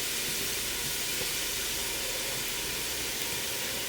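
Finely diced onion, about a cup and a half, sizzles in avocado oil in a soup pot, giving a loud, steady, dense hiss that runs unbroken and close throughout.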